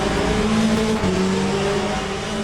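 A Corvette GT race car engine in the Le Mans Ultimate racing game drones loud and steady, holding a continuous high-revving tone with slight pitch shifts.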